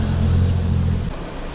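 Street traffic in Bangkok heard from a tuk tuk, a steady low engine rumble that is loud and close and continues unbroken, with the heavy low drone easing slightly after about a second.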